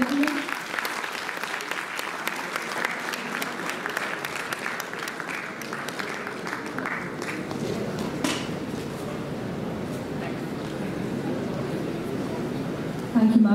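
Steady applause from an audience at a university World Theatre Day celebration, honouring trainers, holding even and sustained throughout with some crowd noise mixed in.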